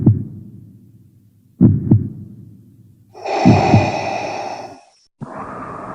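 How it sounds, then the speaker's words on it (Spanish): Heavy, thumping heartbeats sound close up, followed by a loud, rough breath and a shorter breathy sound, with no talking. "Una respiración pesada se escucharía por todo el lugar, junto al latido de un corazón."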